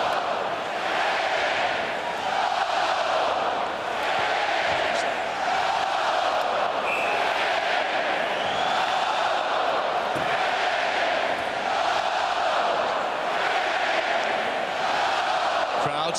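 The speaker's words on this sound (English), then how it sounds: "Standing, cheering." A hockey arena crowd roars continuously after a Detroit Red Wings goal in a 2002 Stanley Cup Final playoff game, a dense, sustained wall of cheering from thousands of fans with no break.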